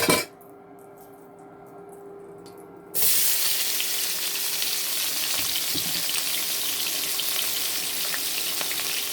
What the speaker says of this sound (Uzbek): Endi mana shu piyozni qovurib olamiz.